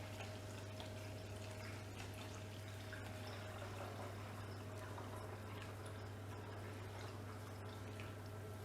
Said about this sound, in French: je prends mon bouillon et je le passe tranquillement par le torchon